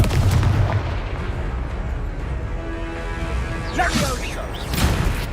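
A Confringo fire spell cast in the Hogwarts Legacy video game during combat bursts with whooshing blasts and impacts among other battle effects, the loudest hits landing in the last seconds.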